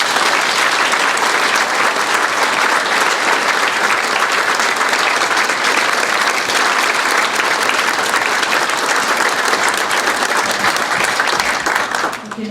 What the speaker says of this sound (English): please join me now in an enthusiastic round of applause and thanks to our veterans and their families